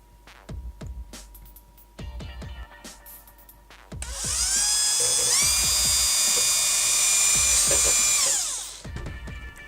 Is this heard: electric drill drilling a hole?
yes